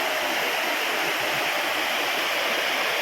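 Vadattupara waterfall near Kothamangalam rushes steadily in a dense, even roar of falling water, loud and close, with no voices.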